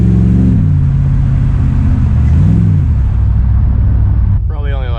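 GM truck engine rumbling loud and close as it pulls away, pitch rising and dipping with acceleration before a sudden change near the end.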